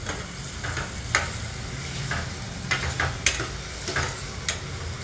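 Onion frying in a pan for paneer bhurji masala, a steady close sizzle under a few sharp spoon taps and scrapes against the pan, with no talking.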